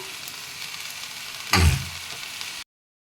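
Vegetables and paneer drop into a hot frying pan for vegetable fried rice, setting off a sudden loud sizzle over a steady background hiss that fades before the sound cuts off.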